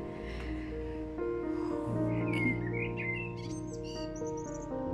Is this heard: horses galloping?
no